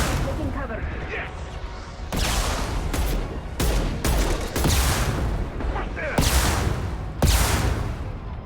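Rapid volleys of enemy rocket and gun fire in the video game Mass Effect 2 come as repeated loud blasts and bursts spaced a second or so apart, over a continuous dense battle roar.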